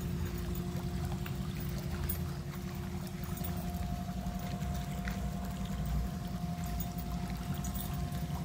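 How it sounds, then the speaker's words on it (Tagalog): A waterfall pouring into blue water gives a steady, low-heavy roar that never lets up, with a faint constant hum running beneath it. "Waterfalls."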